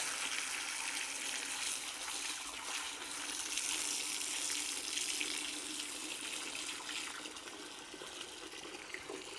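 Water gushes steadily into a bucket to soak clay for Cherokee pottery, a continuous bright splashing pour at moderate distance with no voices.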